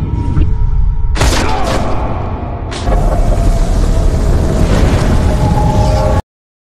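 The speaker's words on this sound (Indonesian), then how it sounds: "Faraday meledakkan tabung gas dengan daya hancur kecil" A gas cylinder blast in a film lab scene, a loud roaring explosion with a sudden burst, a brief dip, then a second eruption followed by a sustained rumbling roar that cuts off abruptly.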